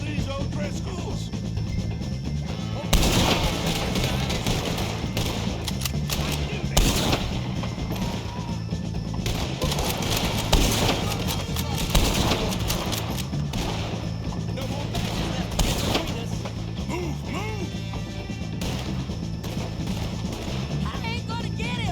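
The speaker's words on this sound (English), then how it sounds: "shoot some of these O'Driscolls!" Video game gunfire in Red Dead Redemption 2 cracks out in repeated loud shots and bursts during a firefight, over a constant din of game noise, with shouting voices mixed in throughout.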